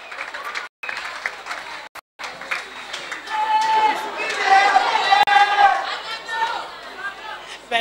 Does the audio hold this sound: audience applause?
yes